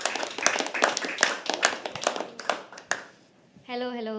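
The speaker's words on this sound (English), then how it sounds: "Keep clapping till she comes on stage." Audience clapping at a live poetry open mic, sharp individual claps that thin out and fade to near silence, followed by a sustained tonal voice at the end.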